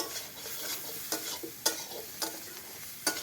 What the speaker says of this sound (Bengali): এবার ভালো করে আমি কষিয়ে নেব